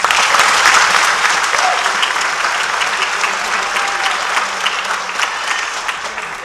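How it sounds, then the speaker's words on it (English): A large crowd at a high school graduation ceremony gives a long, steady round of applause that stays full and even throughout, with only faint voices mixed in. "Please join me in giving them another round of applause."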